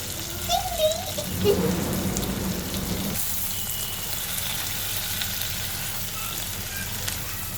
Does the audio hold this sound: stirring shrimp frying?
yes